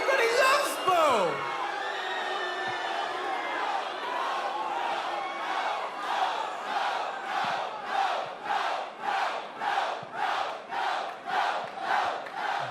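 A wrestling arena crowd at a WWE NXT event loudly jeers Bo Dallas, starting as a swelling roar that settles into rhythmic, pulsing chants repeated over and over, dense and close.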